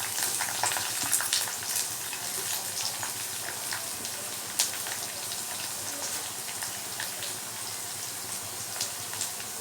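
Onions frying with roasted peanuts in a hot pan for peanut chutney, a steady loud sizzle with light stirring scrapes throughout, close by and with no talking.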